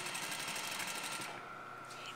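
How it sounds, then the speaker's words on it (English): A sewing machine runs briefly while stitching a garment sleeve close to the stay stitch, a soft steady whir that stops partway through. "I am sewing very close to the stay stitch."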